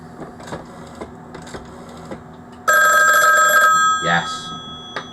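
A 746 telephone's bell rings loudly for about a second and a half of metallic trilling, starting after scattered soft clicks and taps, then fades into a brief clatter.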